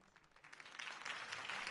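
A short burst of crowd applause and cheering in the video game Batman: The Telltale Series, swelling quickly and holding, with some distant voices mixed in.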